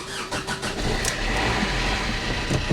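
A diesel Fiat Panda that has sat unused for months starts up close by, cranking briefly before catching into a loud, steady idle with a rough, low rumble. No one speaks.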